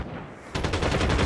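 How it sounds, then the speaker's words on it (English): Rapid automatic gunfire from Call of Duty Mobile, a sudden loud burst of repeated shots starting partway through and continuing steadily to the end, with no talk over it. "Are you shooting at them?"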